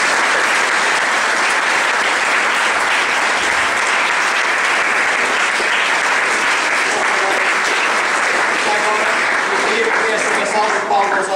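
Loud, sustained audience applause filling the room without pause, with faint voices emerging near the end.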